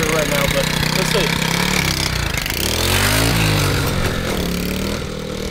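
A Honda Z50R mini bike engine runs close and loud with a rough, rapid putter, its revs surging up and down unevenly at idle while the bike is eased in and out of gear.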